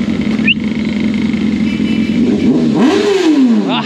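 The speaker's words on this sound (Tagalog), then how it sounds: "Ganda ng motor ni kuya" Close, loud motorcycle engine idles roughly and then revs up in a rising whine before dropping back, heard on its own outdoors.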